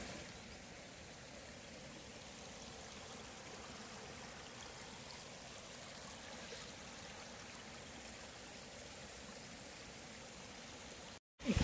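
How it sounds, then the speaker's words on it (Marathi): Adai waterfall near Panvel, running low in the monsoon, tumbles down a rocky face. It makes a faint, continuous stream-like rush that carries on evenly, then cuts out briefly just before the end. "इकडून वरून पाणी येऊन हे असं असं खाली जाऊन धबधबा बनतोय."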